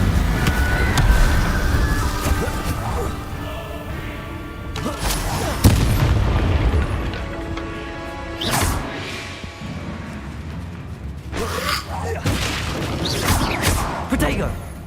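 Spell effects from Hogwarts Legacy, a fire spell cast in combat: repeated bursts, booms and whooshing blasts with crashes over a busy game soundtrack, loud and close throughout.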